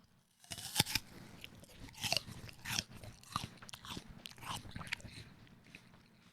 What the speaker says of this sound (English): The first thing you notice right off the first bite is that it is very crunchy.